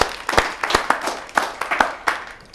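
An audience at a Hindi poetry gathering claps to welcome a poet; the applause is short and fairly sparse, with a handful of separate claps close by.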